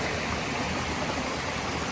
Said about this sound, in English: And this is the stream